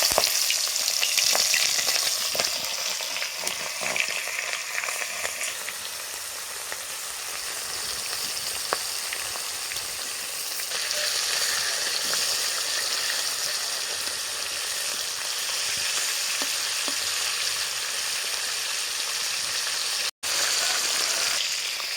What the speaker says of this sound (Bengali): তেল গরম হয়ে গেছে আমি চিংড়ি মাছটা দিয়ে দিলাম